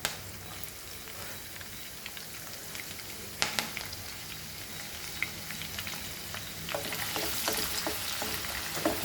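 Onion and curry leaves fry in about two tablespoons of oil in a pan, a steady crackling sizzle with scattered sharp pops that grows fuller and busier toward the end.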